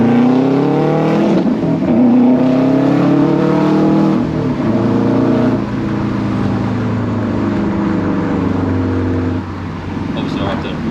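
A 315bhp Subaru WRX Hawkeye driving and accelerating, its engine loud and close from inside the cabin, revs climbing and falling through gear changes in a continuous drone with no talking.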